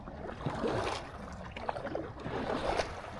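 A boat on Phewa Lake in Pokhara, driven at full speed, heard as a continuous rushing wash of water with splashes and slaps against the hull, steady and fairly close.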